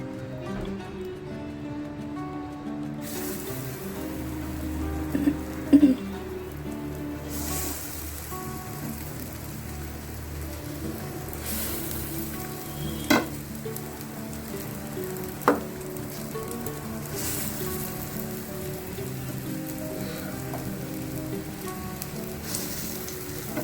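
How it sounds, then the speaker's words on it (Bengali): Fritters (bora) fry one by one in hot oil, a long, steady, rain-like sizzle that runs throughout, with a few brief, louder knocks and splashes as pieces go in. "বড়াগুলো একটা একটা করে ভাজতে লাগি"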